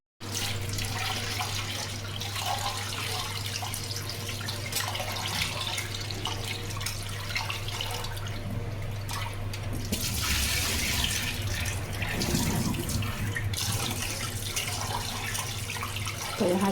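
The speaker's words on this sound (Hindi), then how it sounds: "तो यहाँ चावल धुल रहे हैं" Rice rinsed in a kitchen under a steadily running tap, a continuous broadband rush of water with a low hum beneath and a brief surge of splashing partway through, close and fairly loud with no talking.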